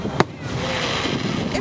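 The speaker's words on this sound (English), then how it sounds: "Take a look at some of the fireworks that were shot" Festival fireworks being shot off outdoors, a sharp bang followed by a continuous crackling, hissing wash and a fainter burst near the end.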